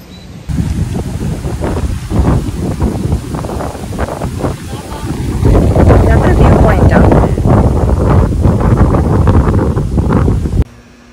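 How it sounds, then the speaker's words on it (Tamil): Strong, steady wind gusting across the microphone at a hill-station viewpoint on Horsley Hills, a broad rushing roar that swells louder midway and holds before cutting off, with a person talking over it. "இந்த இடத்துல வந்து அந்த காற்று சூப்பராக வருது."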